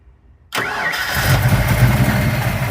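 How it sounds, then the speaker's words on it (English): A car engine with its electric fuel pump disabled cranks briefly, catches on the manual fuel pump, and settles into a loud, steady idle close by. "With the electric pump killed, go ahead and try to start it on the manual fuel pump."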